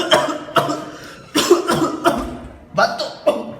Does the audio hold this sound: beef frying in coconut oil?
no